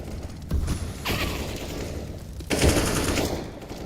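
Bursts of rapid automatic gunfire and heavy booms in a tactical shooter game round, loud and close, with dense rattling volleys at the start, middle and a sharper burst near the end.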